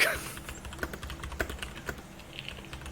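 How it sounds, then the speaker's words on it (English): Typing on a computer keyboard, a quick irregular patter of close key clicks with small bursts and pauses, quiet and alone over a faint low hum. "No, Heath he's typing."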